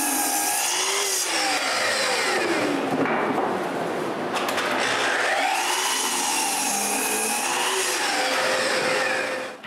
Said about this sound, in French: Je commence par couper tous les morceaux qu'il me faut à leur bonne longueur